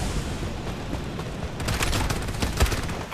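Gunfire exchange in the Farlight 84 battle royale shooter on mobile, a steady wash of rapid shots that swells after the midpoint into dense bursts with one sharp loud crack near the end, and no talking.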